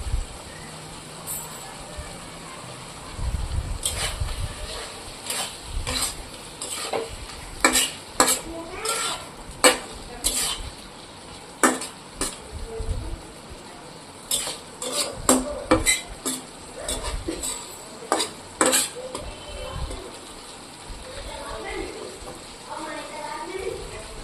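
A utensil stirs fish roe curry with chopped coriander in a pan, making repeated scraping strokes and clinks in irregular bursts over a low background sizzle, with faint voices now and then.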